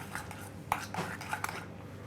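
A spoon scrapes and clinks in a bowl while horseradish cream seasoning is mixed, a few soft, irregular taps and scrapes up close at low level.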